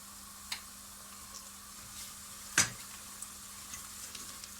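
Tomato paste and onions frying in a pan for a regional Erzurum bean dish, a soft steady sizzle under a low hum, broken by one louder scrape or clink partway through and a few faint ticks, no talk.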